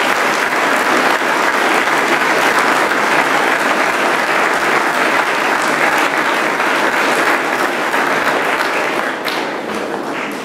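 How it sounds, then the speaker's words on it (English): Sustained audience applause at an alumni honors award ceremony for St. Thomas Academy, dense and steady clapping from a full room continuing for over ten seconds before tapering slightly at the end. "So please give a round of applause for those two gentlemen."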